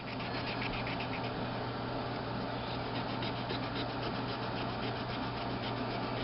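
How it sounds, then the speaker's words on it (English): Sandpaper rubs against a carved bone piece in a constant, close, scratchy rasp made of quick repeated strokes, with no voices. "just keep on sanding until you don't see any more lead."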